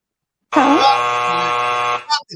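A loud, harsh electronic buzzer blares steadily for about a second and a half, then cuts off with a brief stir of voices.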